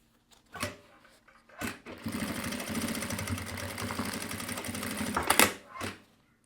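A sewing machine stitching two pieces of fabric placed right sides together, running steadily for a few seconds between brief handling noises, close and fairly quiet.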